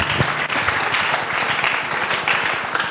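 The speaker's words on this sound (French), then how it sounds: "Acclamons très fort pour les rois d'or." A church congregation applauds during a service, dense and steady clapping from many hands filling the space throughout, with no break.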